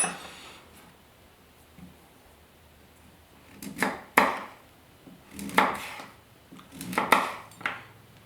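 A Global kitchen knife chops through a hard turnip, a few sharp, close crunching cuts knocking against the board in uneven bursts, with quiet pauses between strokes.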